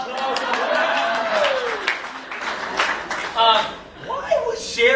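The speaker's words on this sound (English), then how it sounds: "Oh, applause." Classroom students applauding in a broadband patter of claps, with voices talking and a brief chuckle over the top throughout.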